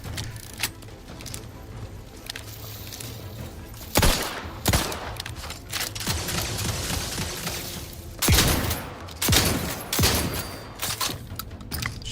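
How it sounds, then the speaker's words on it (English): Gunfire in The Outer Worlds 2 video game, with loud shotgun and rifle shots fired at close range. Sharp reports come in uneven bursts over a steady background of combat noise, with several heavy blasts standing out. "He's shooting into this thing."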